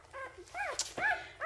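Newborn Goldendoodle puppies give a short run of high, thin whimpers and yips, close and fairly soft, several small cries in quick succession.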